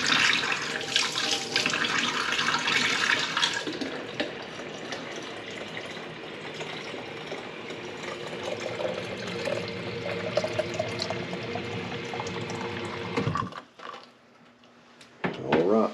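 Very hot water running hard from a tap for mixing milk replacer, a steady loud gush for about thirteen seconds before it is shut off, followed by a few faint clinks.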